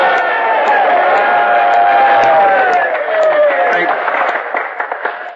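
Crowd of voices cheering and calling out at once for a returning man's announcement in a radio drama, a dense loud swell that thins into scattered shouts and claps.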